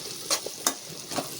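A spoon scrapes through food sautéing in a hot pan for an egg fry, three quick stirring strokes over a steady, close sizzle, with no talking.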